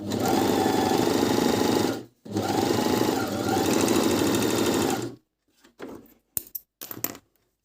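A Minerva M2000C serger runs at full speed stitching fabric, a loud steady motor whir for about five seconds with a short pause, then stops, followed by a few light clicks and taps.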